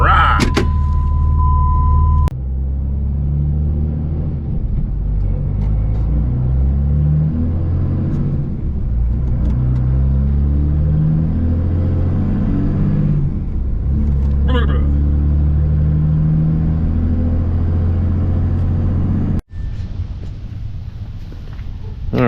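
A car towing a trailer on the way to pick up a 1971 Pontiac Firebird, giving a steady low engine and road rumble throughout, with a brief thump near the start and a sharp knock near the end.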